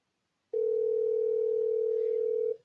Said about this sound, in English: the phone, the GXP 1625 is ringing here too